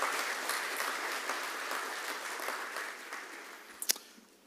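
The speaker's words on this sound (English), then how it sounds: "So a round of applause to them." Audience applause for the children at a first-anniversary celebration of a children's hospital in Fiji, a sustained crowd clapping that gradually thins out and fades toward the end.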